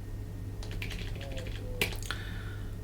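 Fingers tap on a computer keyboard in a quiet room: a short, light run of clicks, then a sharper keystroke near the end. There is no talk.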